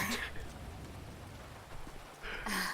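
Steady rain pours in the GTA RP game world, a continuous broadband hiss that fills the clip, with brief bursts of voice at the start and end.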